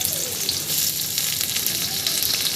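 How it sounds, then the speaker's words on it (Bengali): Onions sizzle and crackle in hot mustard oil in a pan for vegetable chowmein, a loud, continuous, close-up hiss with no talk. "এরপর সর্ষের তেল দিয়ে পেঁয়াজগুলো ভাজতে দিয়েছি।"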